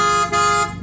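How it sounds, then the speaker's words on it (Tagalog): A PIAA super bass horn fitted to a 2018 Toyota Wigo blasts a deep, rich dual-tone honk, close and loud, with a brief dip in the middle of the short blast. "We just installed a PIAA super bass horn deep bass tone."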